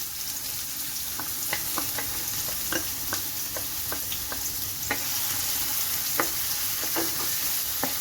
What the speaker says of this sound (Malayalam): ചീൻചട്ടിയിൽ നമുക്ക് ആദ്യം ചേർത്ത് കൊടുക്കുന്നത് കുറച്ച് സവോളയാണ്